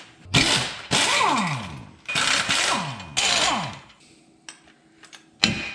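Hand tools work loose the bolts underneath a plow in short, close, ratcheting bursts, several metallic spurts separated by brief pauses, loud and alone.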